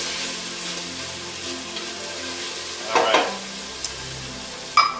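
Chopped vegetables are stirred into a pot of white bean chicken chili, a low steady simmer and sizzle with a few sharp scrapes of a spoon against the pot, and a brief word spoken.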